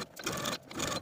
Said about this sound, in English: I'm going to top stitch along the bottom of the sleeve with about an eighth of an inch seam allowance